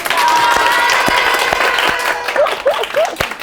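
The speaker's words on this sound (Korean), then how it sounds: "박수로 환영 부탁드립니다." A school audience welcomes a former national volleyball player with applause, a dense burst of clapping with a few sharp, distinct claps, while excited voices call out and squeal briefly near the end.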